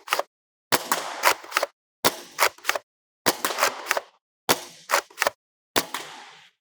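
A Siren Maulr foam dart blaster fires Walmart target darts in sharp, loud, separate pops, grouped in twos and threes with short silences between, close by and with no voices.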